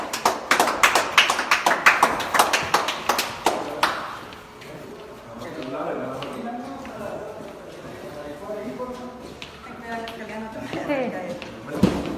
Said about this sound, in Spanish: Con aplausos, por favor.